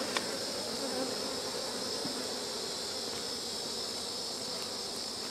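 Honey bees from a newly formed swarm buzz steadily around a beehive. A dense, continuous hum sounds close and even throughout, with no voices.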